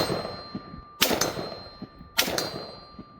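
Two spent brass casings from a SIG rifle, run on AAC 62 grain ammunition, land with bright metallic clangs about a second apart, each ringing briefly against a faint outdoor background.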